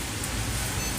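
Steady rain falls in an urban neighborhood, a dense, even hiss of drops with no breaks and no voices over the full second.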